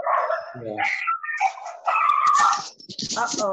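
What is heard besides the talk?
dog barking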